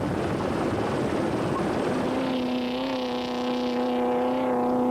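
A helicopter filming a desert rally raid stage hovers close and loud, its steady rotor and engine roar holding a rising whine through the clip with no voices.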